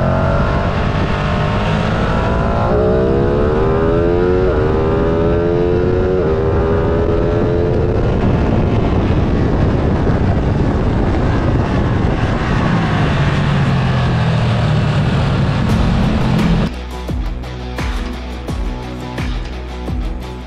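A 2022 Ducati Streetfighter V2 motorcycle engine roars loud and close on a test ride, rising and falling through revs and gear changes before dropping to a lumpy, pulsing idle near the end.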